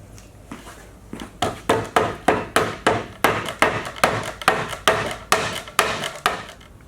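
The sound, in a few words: mallet driving wooden dowels into towel rack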